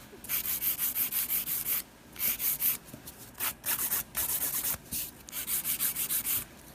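Nail extensions being filed and shaped, a steady scratchy rubbing in repeated strokes with short pauses between passes, close and fairly quiet, with no talking.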